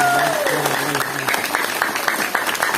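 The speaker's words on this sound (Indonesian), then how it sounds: "Tepuk tangan untuk Saudara Maulana." An audience claps for a young man being thanked at a community event, a dense burst of applause building under a speaking voice that fades out early, loud and close.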